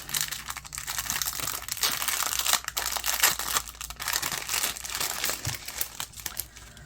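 Loud, close crinkling of a plastic packet, handled continuously with sharp crackles and rustles throughout.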